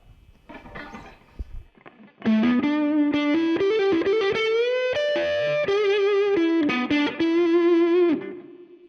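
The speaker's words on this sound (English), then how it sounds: "Let's put some distortion." Electric guitar played through a distortion pedal into an Orange Crush Pro 120 amp head, with a few quiet muted picks followed by sustained, heavily overdriven notes and bends that ring out loud and close.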